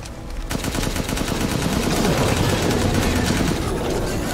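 Rapid automatic gunfire from a gun in a video game, a dense, loud, continuous burst of shots lasting several seconds with no talking.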